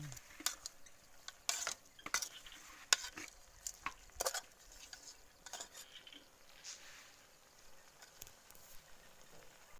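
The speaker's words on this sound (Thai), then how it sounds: "คนให้เข้ากัน" A utensil stirring a cobra egg dish in a pan, quick scrapes and taps against the pan over a soft sizzle, close but quiet, in uneven bursts that thin out toward the end.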